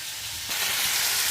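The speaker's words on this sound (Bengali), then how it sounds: "এইদিকে ইলিশ মাছগুলো আমি ভেজে নেব, মাছের মাথাগুলো ভেজে নেব" Hilsa fish and fish heads frying in hot oil, a steady close sizzle that jumps louder and brighter about halfway through as more fish hit the pan, with no voices.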